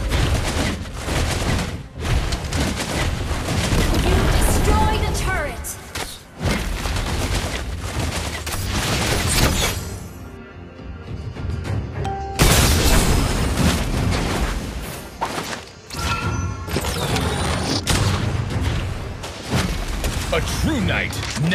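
Dense video game battle with a tank destroying a turret: loud, continuous bursts of gunfire and booming explosions that pause briefly midway before resuming, with game voices mixed in.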